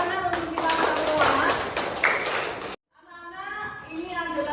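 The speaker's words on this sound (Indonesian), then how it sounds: "Oke, tepuk tangan untuk kita semua." Classroom of children clapping together, a burst of several seconds of hand claps mixed with children's voices, cut by a brief silence and followed by an adult voice speaking.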